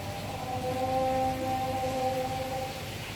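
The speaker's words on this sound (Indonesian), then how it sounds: "Chamber ketiga juga alirannya cukup deras" Strong water flow through the third filter chamber of a koi pond, which is packed with bioballs: a steady, moderate rush of churning water with a faint tonal hum underneath, heard alone.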